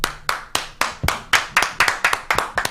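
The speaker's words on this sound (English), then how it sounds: "round of applause" A single person claps about a dozen times in a quick, even rhythm, sharp and close, as a round of applause on a morning talk show, with no voices over it.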